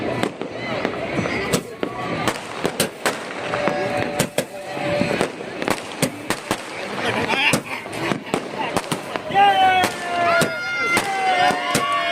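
Repeated sharp firecracker bangs and crackling fireworks for Makar Sankranti in Ahmedabad burst irregularly over a long stretch, loud and close, with people talking in the background.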